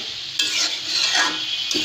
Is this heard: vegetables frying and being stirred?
yes